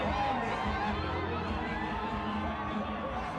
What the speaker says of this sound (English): He raises his bat to the cheer of thousands of fans gathered here